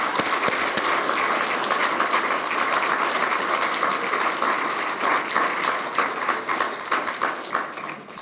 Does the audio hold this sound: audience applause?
yes